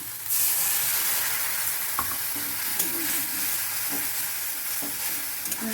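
Chhana kofta sizzles steadily in hot oil in a pan, with a continuous close hiss and a few light clicks of a utensil, and no one speaks.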